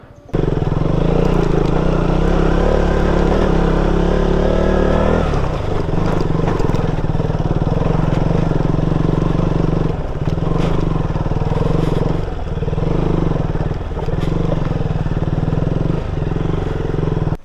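A motorcycle labours uphill in first gear with a steady, loud engine drone that shifts tone partway through and dips briefly a few times, close to the microphone, with a faint voice now and then.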